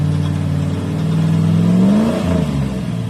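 A Thunderbird's engine revs unevenly while a driver still learning stick shift works the clutch, a loud, close rumble whose pitch climbs and then drops, and no talking.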